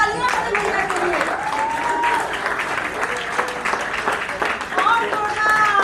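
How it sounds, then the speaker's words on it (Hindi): A crowd at a retirement ceremony bursts into sustained, energetic applause, many hands clapping at once, with voices calling out over it. "जोरदार तालियां बड़े भैया के लिए"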